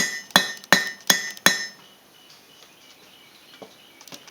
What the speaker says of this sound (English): we're going to try and use the corners of the anvil here to get the shape we're looking for